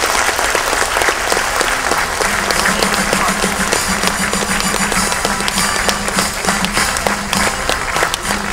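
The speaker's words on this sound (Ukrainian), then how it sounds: "бурхливі оплески, які будуть в залі" Loud, sustained applause fills a concert hall at a children's accordion ensemble anniversary celebration, dense and even throughout with a faint rhythmic pulse beneath it.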